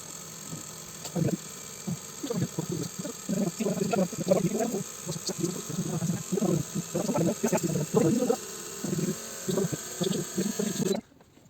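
Suzuki SRAD1000 fuel injectors running a flow test at simulated high RPM produce rapid, uneven bursts of spraying hiss and pulsing liquid over a steady bench pump whine, loud and close, cutting off abruptly at the end.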